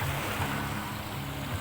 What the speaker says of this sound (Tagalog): Gulong ng alon, kaya magalaw yung tubig, halos hindi na makita yung isda.